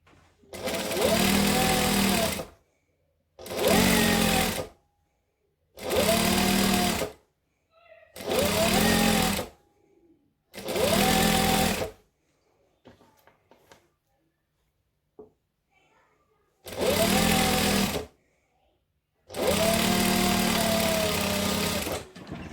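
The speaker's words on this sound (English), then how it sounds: "Out of habit, I backstitch, but you actually don't need to." Sewing machine stitching fabric with backstitching for a Christmas tree skirt; seven loud bursts of rapid motor whirring, each a couple of seconds long, separated by short pauses with faint handling noises, and no talking.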